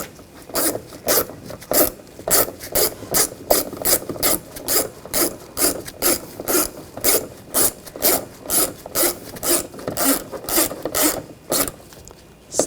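Ratchet tightening a screw on a 2014-2020 Nissan front window regulator, a close rapid series of crisp clicking strokes in regular bursts, loud and alone.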